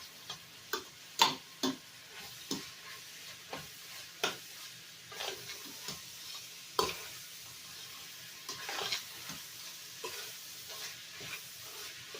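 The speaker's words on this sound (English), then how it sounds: "you just want to warm that bacon through and finish off that hamburger meat" Bacon and hamburger meat sizzle in a pan, a soft steady frying hiss broken by frequent sharp pops and spatters at irregular intervals.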